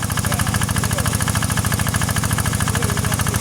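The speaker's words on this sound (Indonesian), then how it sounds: "mesin tersebut untuk membantu pompanisasi yang sudah ada sehingga volume air ke sawah akan maksimal" The engine of an irrigation water pump runs at a rice field in Cot Tunong, Bireuen, with a loud, fast, even chugging pulse that continues without a break. A voice talks over the engine the whole time.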